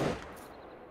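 A single rifle shot fired at an elk in the hunting game theHunter: Call of the Wild, in the Silver Ridge Peaks area, gives a loud, sharp crack that quickly decays.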